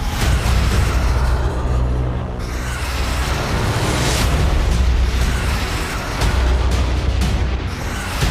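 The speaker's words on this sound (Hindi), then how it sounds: "परीक्षण के दौरान रूस की जिरकॉन मिसाइल जमीन से 28 किलोमीटर ऊपर तक गई" Russian Zircon hypersonic missile roaring off at a test launch, a loud, sustained, rumbling blast that holds steady for several seconds with no voices over it.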